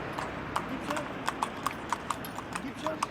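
Horse hooves clip-clop in a steady, even rhythm on the street of an ancient Egyptian town, fairly close, with someone speaking over the hoofbeats.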